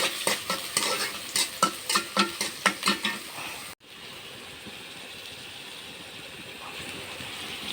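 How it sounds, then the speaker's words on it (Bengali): Chopped onions hit hot oil with a sharp, steady sizzle for shared fish curry with stalks, rhythmic stirring scrapes punctuating the first half before a brief cut, then a softer continuous frying hiss. "তেল গরম হয়ে গেছে, পেঁয়াজ কুচি দিয়ে দিলাম।"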